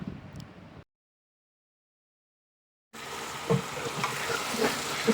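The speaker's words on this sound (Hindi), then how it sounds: "अब इसको आपने अच्छी तरह से भून लेना है कि इसका कलर चेंज हो जाए" Boneless chicken frying with onions in a pot gives a steady sizzle with stirring scrapes and small knocks, cut by about two seconds of silence before the sizzle returns louder.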